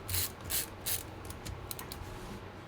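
A screwdriver drives screws into the palmrest of an HP M6-N113dx laptop, making close ratcheting clicks: three distinct bursts, then a faster run of fainter ticks.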